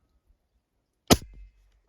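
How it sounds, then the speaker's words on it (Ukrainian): One sharp, close pop of an Izh-53M air rifle firing, followed by a brief low thud, then silence. "Зараз ще постріл ковпачком 39"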